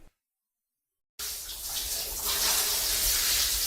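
Water gushes steadily from a tap as hair is washed at a salon, a loud continuous splashing rush that starts abruptly after a moment of silence.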